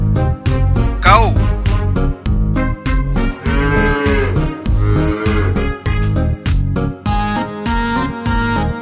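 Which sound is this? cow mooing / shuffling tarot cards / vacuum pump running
cow mooing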